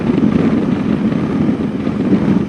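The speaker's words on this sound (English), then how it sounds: "It is a really breezy day, though." Strong wind buffets the microphone on a breezy, sunny Florida day while riding outdoors, a steady loud rumbling roar with no talking.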